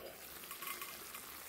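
Vegetables cook in a pan while being stirred, giving a soft steady sizzle and a light scraping texture, faint and close, with no talking.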